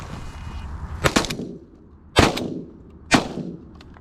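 Shotguns firing at wigeon and pintail ducks during a late-season duck hunt, three loud, sharp blasts about a second apart, the first a quick double, each trailing off into open outdoor quiet.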